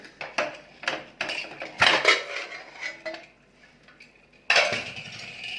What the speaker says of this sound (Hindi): अब इसका ढक्कन खोलेंगे।